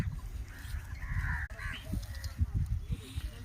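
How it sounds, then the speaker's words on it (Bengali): Several harsh crow caws ring out among low background rumble, overlapping at moments as a group calls together at moderate distance. "সেখানে কত কাক এসে এক জায়গায় জড়ো হয়েছে"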